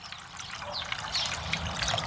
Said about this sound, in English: now I add a good amount of water